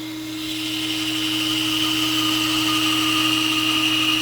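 A band saw with a narrow 1/4 inch blade rips wood into veneer, giving a steady close whine and hum that builds during the first second and then holds even, with no talking.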